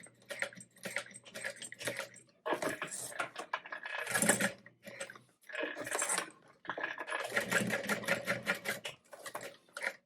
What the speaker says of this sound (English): I'm going to do a little box stitch.